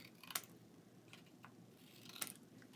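Scissors trimming paper for a 12x12 Thanksgiving scrapbook page layout, heard as two crisp, close snips about two seconds apart, with a few fainter clicks between them over a quiet room hush and no talking.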